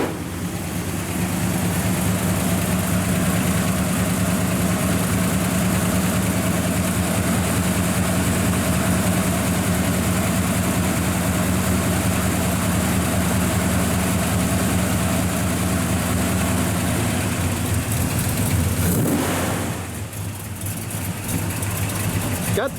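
A 1965 Chevrolet Chevelle Malibu SS with headers, dual exhaust, turbo mufflers and a choke idles steadily and fairly loud for about nineteen seconds, a low smooth rumble that drops away near the end; there is no speech.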